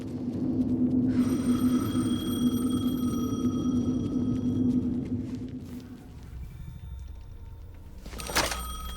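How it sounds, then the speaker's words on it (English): An old telephone rings in the Alan Wake 2 video game, a steady electronic trill over a low hum that stops midway, followed by quieter ambience and a short thud near the end. "The phone again."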